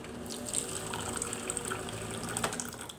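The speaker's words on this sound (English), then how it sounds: "take a cup and get some warm water." Warm water poured into a cup, a continuous bright trickling splash with small bubbling spikes, close and steady for about three seconds without speech.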